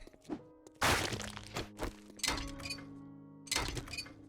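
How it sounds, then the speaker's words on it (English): An object is wrenched apart for mechanical parts and plastic in the survival game 7 Days to Die. It sounds as a series of close, hard metallic whacks and clanks with ringing tones, in irregular bursts and short pauses. "Might as well wrench this and get some mechanical parts and plastic."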